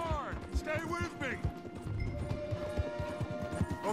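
Horses gallop hard in Red Dead Redemption 2, a steady rapid clip-clop of hooves under constant music and game noise.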